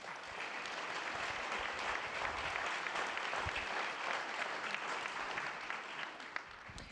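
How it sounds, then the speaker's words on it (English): An audience at the ASU+GSV Summit applauds two women taking the stage, a steady, even wash of clapping from a large room heard at a distance, with no speech over it. "So please give these two ladies a big round of applause"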